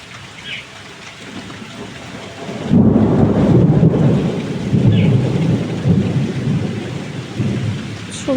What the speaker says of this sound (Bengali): জোরে জোরে বিদ্যুৎ চমকাচ্ছে আর মেঘ ডাকছে, বাজ পড়ছে মনে হচ্ছে।